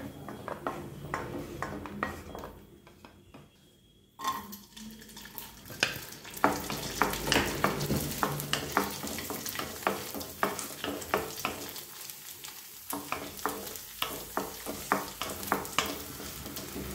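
Cashews and raisins fry in ghee in a pan with a steady sizzle, punctuated by frequent spoon stirring and scraping against the metal, briefly quieter mid-way before the stirring resumes close and clear.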